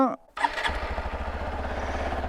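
A small Hero motorcycle engine cranks briefly, catches, and settles into a rapid, putting idle close by.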